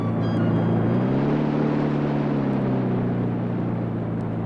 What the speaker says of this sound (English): I've reversed the engine so we can ease into our mooring